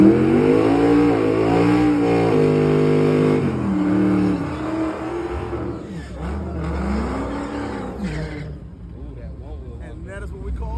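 Race car at a drag track accelerating hard, loud engine revving with rising and falling pitch sweeps through gear changes, fading as it pulls away.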